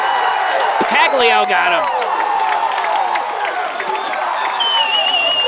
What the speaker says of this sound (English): now this home crowd starting to make some noise